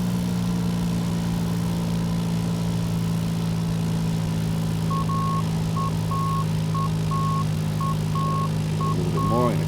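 A Cessna 172SP engine in the X-Plane 10 flight simulator drones steadily at reduced throttle on approach, a constant low hum, while a repeating electronic beep tone sounds during the second half.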